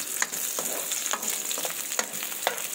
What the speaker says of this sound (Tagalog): Ayan, ipa-fry nyo na yan.